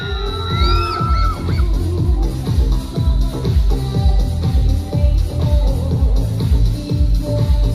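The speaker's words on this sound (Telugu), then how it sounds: "Give a big round of applause." A crowd at a college annual day celebration cheers and claps, with rhythmic thumping beats underneath, shouts and whoops rising over the noise throughout.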